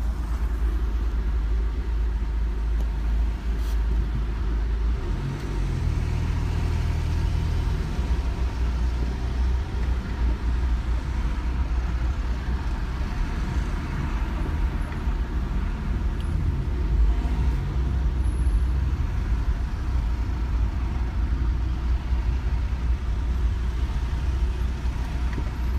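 Steady, loud road rumble of a car driving through the Blackwall Tunnel in London on a 25-degree day, with continuous traffic noise and heavy low drone from engines, a brief swell of passing vehicles, and no talk.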